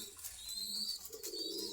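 Homing racing pigeons at the Meradia bazaar in Khilgaon, Dhaka, give soft, low coos in a few short phrases, faint and close against a quiet market background.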